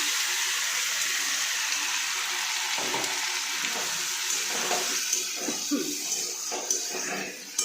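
Ground spice paste hitting a hot pan after frying, giving a steady, loud hiss and sizzle with occasional stirring scrapes and clatters, no voices.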